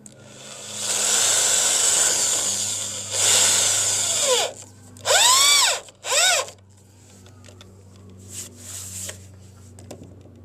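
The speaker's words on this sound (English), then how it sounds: "This is the part that really takes a lot of time, putting in these screws." Power drill driving screws into Trex composite deck boards outdoors, several loud whining bursts of a few seconds each with short gaps, ending with quieter ratcheting clicks, no talking.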